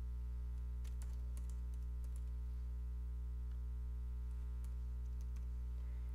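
Keys tapped on a computer keyboard while entering numbers into an Excel spreadsheet, scattered clicks coming in short irregular bursts over a steady low mains hum, fairly quiet and close.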